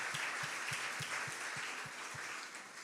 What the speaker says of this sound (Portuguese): Aplauda pela vida do seu apóstolo.